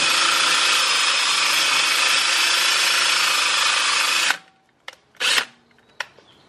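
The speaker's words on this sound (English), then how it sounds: "Since this rotor screw was stuck and we didn't have an impact screwdriver and it was stripped, we're drilling it out." A power drill whines loudly and steadily for about four seconds, drilling out a stuck, stripped brake rotor screw on a Honda NSX, then stops; a few short bursts and clicks follow.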